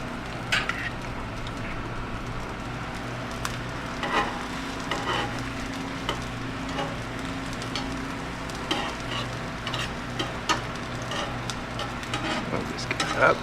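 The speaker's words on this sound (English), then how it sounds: "I'm going to start with some of this back bacon here. Start it off. Make sure to lay it out flat." Back bacon sizzling and frying in a pan for a full English breakfast, a steady close crackle running throughout with scattered utensil taps and scrapes against the pan.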